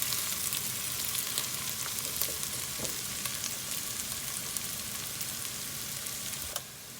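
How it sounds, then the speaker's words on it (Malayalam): Crushed ginger and garlic sautéing in a pan for carrot rice, giving a steady, bright sizzle with occasional stirring scrapes and clicks throughout, close and continuous until it quietens near the end. "ഇഞ്ചിയുടെയും വെളുത്തുള്ളിയുടെയും ഒക്കെ പച്ചമണം മാറുന്നത് വരെ നന്നായി ഇളക്കി വഴറ്റുക."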